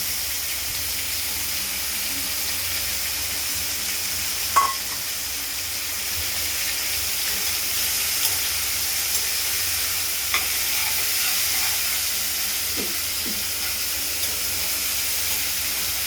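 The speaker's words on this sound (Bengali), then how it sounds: "একদম নাড়াচাড়া করে ভেজে নেব।" Sliced pumpkin and thinly shredded bitter gourd fry in mustard-seed-tempered oil, giving a steady, close sizzling hiss with occasional soft clinks and scrapes as they are stirred in the pan.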